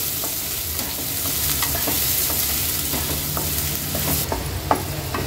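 Finely chopped onion fries in hot tempering oil for tomato rice, giving a steady close sizzle with light stirring and scraping clicks throughout, no one talking.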